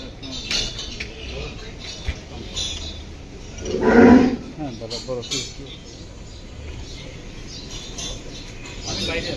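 A large Qurbani cow lets out one loud, low moo close by, with people talking before and after it.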